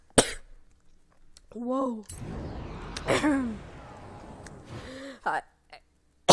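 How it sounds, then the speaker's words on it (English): A burst of harsh, repeated coughing with throat-clearing and strained breaths, close up, broken by a brief exclamation from the same voice. "I just had a coughing fit out of nowhere"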